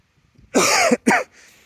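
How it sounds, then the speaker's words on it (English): Two loud, close coughs from a person with a cold in rapid succession, throaty and rough, followed by a brief exhale in an otherwise quiet space. "sorry about the cough, got a bit of a cold"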